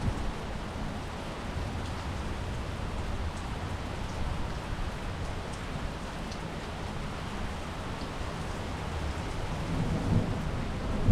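Steady monsoon rain during an Arizona storm pours and drips onto surfaces nearby, a dense continuous wash with rumbling low thunder underneath, growing slightly louder near the end.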